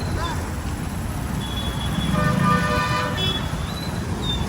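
A vehicle horn toots out on a busy road near a new KSRTC bus, a couple of short honks rising over steady traffic rumble and engine noise.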